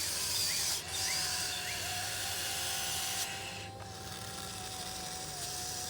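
RC excavator digging in dirt, its motors and hydraulics whirring steadily with a continuous mechanical drone and a rising whine, some scraping throughout, close and fairly loud without talk.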